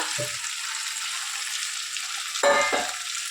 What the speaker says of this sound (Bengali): ভেজে নিচ্ছি একদম ভেজে নেব পনিরগুলো